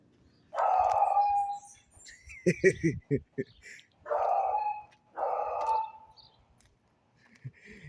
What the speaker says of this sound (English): I always hear that dog every morning.